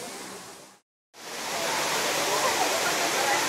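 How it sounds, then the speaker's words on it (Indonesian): Waterfall therapy area at Sari Ater hot spring park, a steady dense roar of falling water, loud and close, briefly cut out for a moment before resuming fully. "ada terapi air terjun juga di sini ya"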